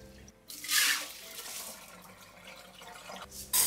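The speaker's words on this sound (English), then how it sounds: "After 30 minutes, drain the rice." Soaked rice being drained, water pouring and splashing off into a sink in short bursts, moderately close, with no talking.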